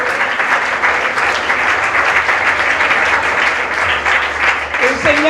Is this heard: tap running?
no